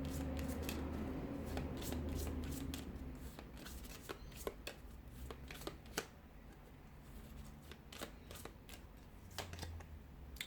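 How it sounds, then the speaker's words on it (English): A deck of tarot cards riffled and shuffled by hand, a steady patter of quick soft flicks and snaps close by over a low background hum. "I'll shuffle the cards here"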